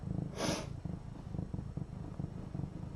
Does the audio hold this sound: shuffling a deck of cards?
no